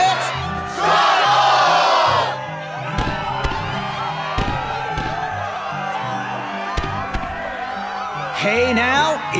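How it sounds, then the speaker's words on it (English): Arena crowd in Kingdom Hearts II roaring and cheering, a loud burst of whoops and shouts at the start, then a steady excited crowd bed under announcer-style talk. "the crowd is fired up"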